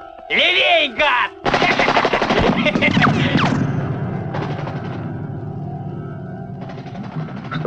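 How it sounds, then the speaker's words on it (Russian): Gunfire in a 1980 Soviet action film: loud rapid bursts of automatic shots mixed with voices and whistling effects, trailing into a steadier rattle of more distant firing with some talk. "Что-то стрельбы много."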